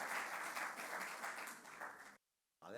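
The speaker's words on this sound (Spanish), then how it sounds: "Y quiero que le demos un aplauso a Joel, que cumplió la palabra" An audience at a film club screening applauds in a sustained, dense burst of clapping that cuts off abruptly, followed by a short moment of sound.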